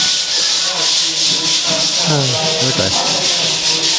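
Sandpaper scrapes steadily over concrete render in a continuous gritty rasp, rising and falling with each stroke, while a voice speaks briefly over it.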